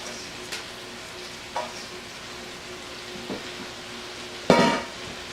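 Chopped leeks cooking in a pot for seafood chowder, a soft steady sizzle with a few stirring clicks and a louder scrape of utensil against the pot near the end.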